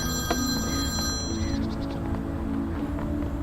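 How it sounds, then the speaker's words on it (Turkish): A telephone ringing in a Turkish drama scene, a steady electronic ring heard amid a dense, continuous background of music and room sound. "Raskoln'un telefonu çalıyor."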